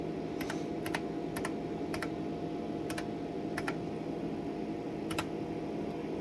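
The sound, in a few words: typing a login on the IBM 5120 computer keyboard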